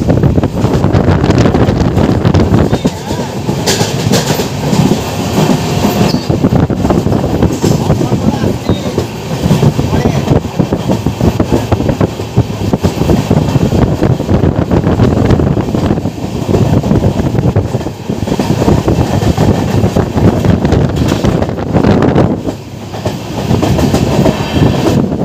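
Passenger express train running on rails between Berhampore Court and Murshidabad Junction, a loud continuous rumble with clickety-clack and heavy wind noise throughout, heard from on board.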